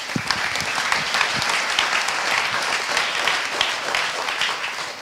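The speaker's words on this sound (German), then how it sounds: "Applaus bitte." Steady audience applause at a Creative Region Linz and Upper Austria event, even, dense clapping from a sizeable crowd holding a constant level.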